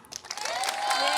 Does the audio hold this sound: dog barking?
no